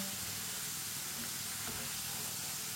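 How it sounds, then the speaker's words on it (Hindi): French fries fry in hot oil as a spoon stirs them, giving a dense, continuous hiss and sizzle that holds steady throughout. "इसी तरह से चम्मच चलाते हुए पकाना है"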